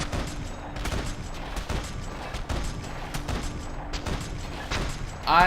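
Gunfire in the Max Payne 3 video game: a dense, rapid run of shots with a rough, steady rhythm, loud and continuous for several seconds.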